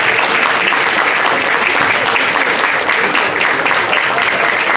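Loud, dense applause from an audience after an MBA group project presentation, many hands clapping in a steady unbroken wash from start to finish.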